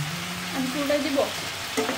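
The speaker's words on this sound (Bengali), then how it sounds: "এবার এখন আমরা প্রথমে মাংসগুলোকে একটু ভেজে নিব 2 মিনিট এদিক ওদিক করে।" Chicken pieces frying in a pan, a close, steady sizzle with short scraping stirs as the meat is moved around.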